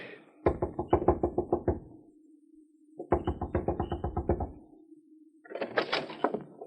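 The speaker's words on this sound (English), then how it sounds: "Knock on the door." Knuckles rap on a wooden door in two quick bursts of about eight sharp knocks each, set against a low hum in a vintage radio drama, followed by a brief muffled voice.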